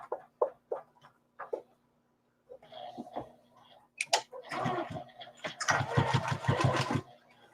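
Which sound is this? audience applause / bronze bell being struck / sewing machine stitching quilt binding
sewing machine stitching quilt binding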